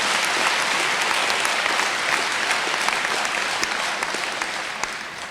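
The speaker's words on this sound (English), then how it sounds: "may we give a one round of applause again to our Chancellor" Sustained, dense applause from a large audience at a university chancellor inauguration ceremony fills the hall evenly, tapering slightly toward the end.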